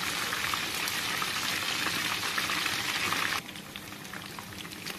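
Chicken liver (kaleji) deep-frying in hot oil, a steady dense crackle and bubbling sizzle that drops noticeably quieter partway through, close and continuous with no talking.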